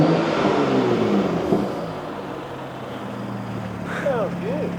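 A BMW 435i engine rumbles steadily with a low droning tone, a couple of brief revs rising and falling near the end.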